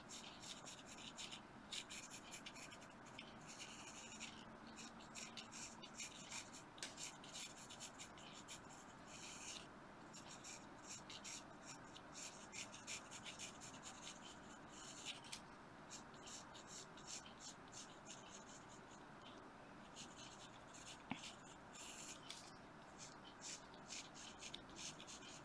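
A biro pen drawing on paper scratches steadily and softly for the whole stretch, a close, continuous rubbing texture with small shifts in pressure and no talk.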